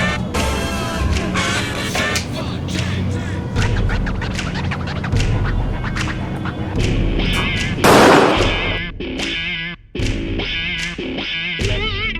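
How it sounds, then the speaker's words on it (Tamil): Green firecrackers set off during Diwali celebrations, a loud, busy string of sharp bursts and crackles, with one big blast near the end followed by more pops and some voices in the background. "நான் வெடிக்கிற வெடி எல்லாமே வந்து பார்த்தீங்கன்னா பசுமை பட்டாசுகள்"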